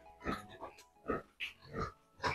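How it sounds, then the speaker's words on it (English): Pigs on a pig farm in Nigeria grunting in a series of low, snuffling oinks, roughly five rhythmic bursts, fairly faint and close, with no one talking. "You have so many pigs here."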